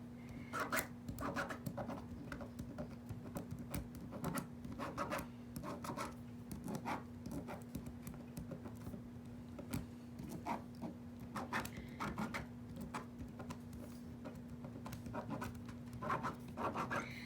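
Marking pen scratching across quilt fabric while marking the center block of a Jewel quilt, a steady run of short close rasping strokes repeating throughout, with a low hum underneath.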